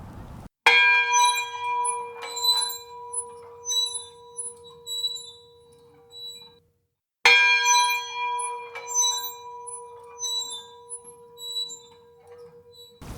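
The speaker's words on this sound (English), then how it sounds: "Here is the sound of the Minot Shipyard bell." A large shipyard bell at a maritime museum rings twice, each strike sustained and slowly decaying with a bright metallic ring, separated by a short silence.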